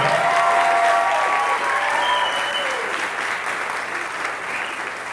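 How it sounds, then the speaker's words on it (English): A concert audience gives the Symphonic Band loud, sustained applause at a winter band concert, a dense wash of clapping that stays steady and full throughout. "And you can clap louder, way louder."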